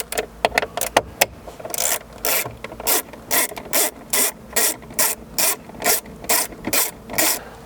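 Screws are being removed from a Chevy Colorado dashboard with a ratcheting tool. A rapid clicking ratchet comes first, then a long series of evenly spaced, rasping ratchet strokes, close and clear, with no talking.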